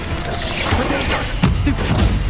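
An Incendio fire spell from Hogwarts Legacy bursts out in a loud whoosh with crashing impacts, set amid busy battle noise with no talking.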